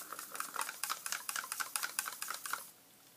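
Printer ink is mixed in a plastic spray bottle, giving a rapid, steady series of small clicking and rattling knocks for nearly three seconds, close and fairly quiet, then stopping.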